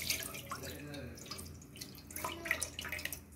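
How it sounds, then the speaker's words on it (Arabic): Water splashes and trickles into a baking tray set under a rack before oven roasting of shish tawook chicken, close and uneven with drips, while someone talks. "واحط في الصينيه ميه"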